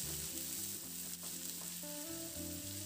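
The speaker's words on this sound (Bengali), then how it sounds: "তো পেঁয়াজটা দিয়ে মিনিট দুয়েক মতো একটু নাড়াচাড়া করে হালকা করে পেঁয়াজটাকে একটু ভেজে নেব" Onion sizzles in hot oil with cumin as it is stirred, a steady close frying hiss broken by faint scraping, with a low tonal hum running underneath throughout.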